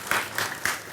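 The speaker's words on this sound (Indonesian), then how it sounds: "Tepuk tangan." Audience applause following a guided meditation in northern Bali, a short burst of brisk, bright clapping from a small group, fairly close and rhythmic.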